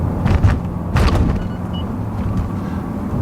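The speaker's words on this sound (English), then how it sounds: "So here comes a famous bump, a very bad bump." A 2016 BMW M5 with a Dinan tune and modifications rolling over a harsh road bump, heard from inside the cabin as a couple of muffled thumps and rattles over a steady low engine and road drone.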